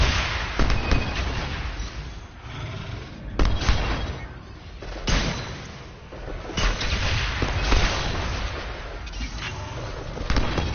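Gunfire in the VR shooter game Farpoint: repeated booming shots and blasts in an irregular, rumbling sequence, loud and continuous with no talking.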